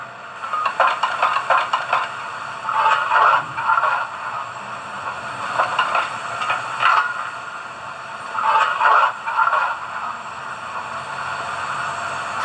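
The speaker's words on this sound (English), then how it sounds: "Function 11 is the firebox opening and closing." Firebox door opening and closing effect from a Hornby OO gauge BR blue Merchant Navy model locomotive, with metallic clanks and scraping bursts recurring over a steady background hiss of steam.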